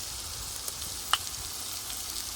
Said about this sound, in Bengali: পেঁয়াজগুলো যখন এরকম বাদামি বাদামি হয়ে যাবে, আমি তখন ওর উপর দিয়ে দেব রসুন বাটা